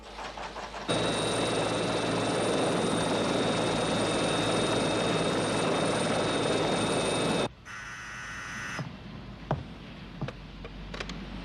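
An aircraft engine roars loud and steady for several seconds before cutting off abruptly, followed by a quieter mechanical whine and a few scattered clicks and knocks.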